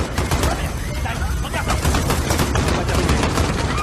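Rapid gunfire crackles at Piccadilly Circus, a dense, continuous fusillade of overlapping shots with machine-gun bursts, loud and close over a steady noisy background.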